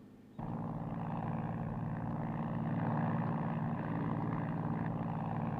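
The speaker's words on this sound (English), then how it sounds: "Carlo, did you hear the plane?" A steady propeller airplane engine drones overhead in a 1960s TV drama scene, kicking in abruptly and holding a loud, continuous hum with a slight swell midway, no talk over it.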